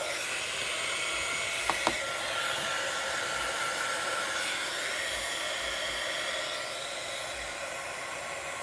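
Two craft heat tools blow hot air together in a steady, loud broadband roar for the whole stretch, with a couple of brief clicks near the start and no voices.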